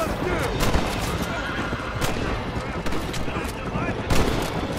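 Horse whinnying amid gunfire in the video game Red Dead Redemption: a loud neigh over dense, rapid gunshots and hoof clatter, with someone talking over the action.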